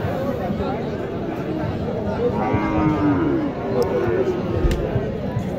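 Cattle, cross-bred bulls and calves, moo at the busy Chhatra cattle market in Niamatpur, Naogaon, a couple of drawn-out lows rising over steady crowd chatter and people talking close by.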